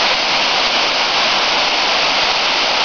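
A waterfall roars in a loud, steady, unbroken rush of falling water, close and continuous with no voices.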